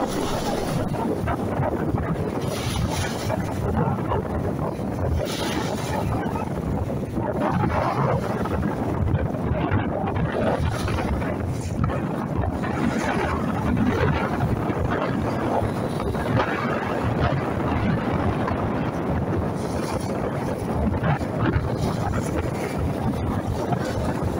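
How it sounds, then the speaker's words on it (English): Heavy wind at a beach buffets the microphone in a constant roaring rumble, steady and loud throughout with gusty swells and no other clear sounds. "That was from a beach, and it was windy and crappy conditions in many ways"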